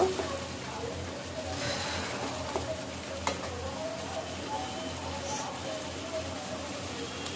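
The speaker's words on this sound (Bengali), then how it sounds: "মাছটা কষানো হয়ে গেছে, এখন আমি এতে জল দিয়ে দেব।" Hot water goes into a pan of fish curry, giving a soft, continuous sizzle and bubbling with faint stirring, quiet and close.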